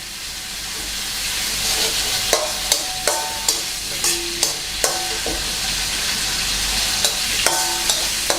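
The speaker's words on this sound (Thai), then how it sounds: "ผมจะผัดให้ แหนมส่งกลิ่นหอม" Naem, Thai fermented pork, stir-fried in a pan for fried rice, a loud steady sizzle with regular sharp scrapes and taps of the spatula against the pan, no voices.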